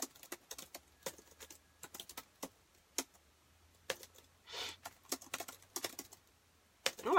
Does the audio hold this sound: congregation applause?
no